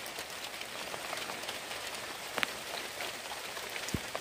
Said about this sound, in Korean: 갑자기 비가 이렇게 많이 내리는데요.